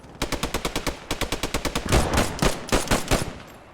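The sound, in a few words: gunfire in the video game Post Scriptum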